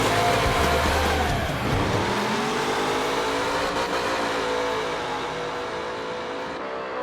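A drift car engine revs loud and high during a racing event, its roaring drone shifting in pitch as it slides through slaloms, then easing back slightly toward the end.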